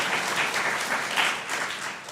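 A church congregation applauds during a Sunday worship service, a soft, sustained patter of many hands heard at a distance, without talk over it.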